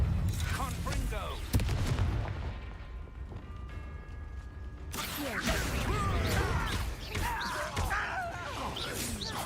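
A Confringo blasting spell in Hogwarts Legacy goes off as a booming magical explosion, followed by crackling, rumbling debris and busy combat noise, with voices mixed in.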